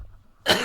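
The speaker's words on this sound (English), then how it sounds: "Man, I've had this cough." A single short, sharp cough comes from a man with a lingering illness, close and fairly loud, after a moment of near silence.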